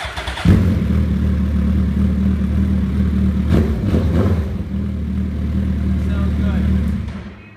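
A 2012 Suzuki Hayabusa motorcycle with a Voodoo exhaust fires up and settles into a deep, loud, close idle with a couple of throttle blips. It runs steadily for several seconds before fading.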